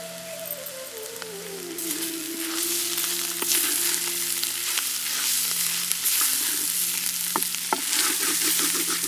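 Goat blood fry with fresh coriander leaves sizzling in a pan, the frying crackle continuous and close, with intermittent scrapes and clinks of a spoon stirring the mixture; no one talks.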